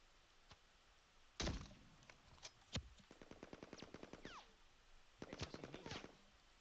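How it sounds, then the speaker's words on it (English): Faint gunfire in the game Reaper Actual: a few single heavy shots, then rapid rattling bursts of automatic fire with short pauses between. "now I hear gunfire"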